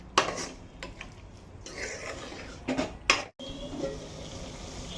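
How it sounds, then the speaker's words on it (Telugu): Mutton curry being stirred in a pot, Telangana style, with scraping and clinking of a spoon against the metal in short bursts over a steady low background, close and moderately loud. "ఇలా మొత్తం కలిసేటట్టుగా మటన్ని మనం కలుపుకోవాలి మంచిగా"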